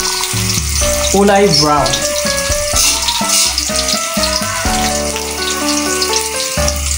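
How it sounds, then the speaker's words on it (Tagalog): Garlic sautéing in a pan for chicken tinola, sizzling steadily while being stirred, mostly under loud background music with a brief spoken comment. "Igbabal na yung bawang. Haluin uli natin."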